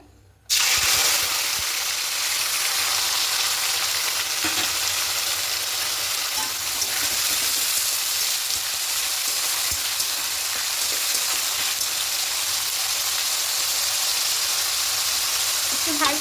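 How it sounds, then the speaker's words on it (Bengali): Chopped onion fries in white oil in a kadai for chicken biryani. After a brief quiet start, a close, dense crackling sizzle suddenly begins and holds steady, with occasional stirring. "লাল করে ভেজে বেরেস্তা করে নেব পেঁয়াজটা"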